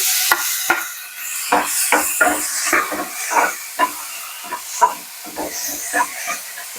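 Cut green chillies going into a pan, with a steady sizzle and hiss and rapid clicks of stirring against the pan, close and fairly loud throughout.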